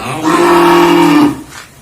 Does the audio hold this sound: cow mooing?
yes